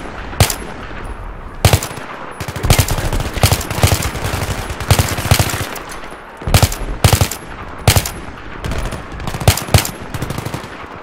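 In a Battlefield 3 combat scene, machine guns fire in loud, sharp bursts and single cracks at irregular intervals, close and prominent.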